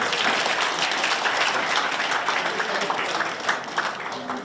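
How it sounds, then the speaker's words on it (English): Audience applause for panelists and a moderator at a Buddhist international conference session, steady dense clapping from a large crowd throughout, with faint voices mixed underneath. "A big round of applause to our wonderful panelists and our moderator."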